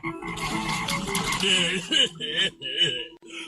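Cartoon frogs from The Jungle Book croak in a busy, layered chorus of repeated ribbits that grows into choppy bursts near the end, loud and close, with voices blending into the din.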